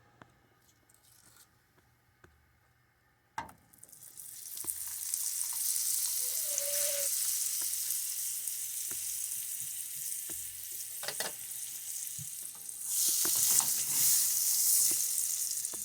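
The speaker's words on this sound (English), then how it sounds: "put some butter in your hot frying pan" Butter sizzles and crackles steadily in a hot pan after a sharp clatter, the frying hiss loud and continuous with occasional scraping.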